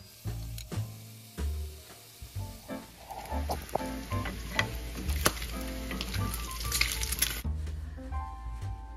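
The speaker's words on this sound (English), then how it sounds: "You'll need about 1/2 pound of bacon right here. Just cook it up until it's crispy" Half a pound of bacon frying in a pan until crispy, a steady crackling sizzle with scattered pops and clinks of utensils, fairly close and without talk.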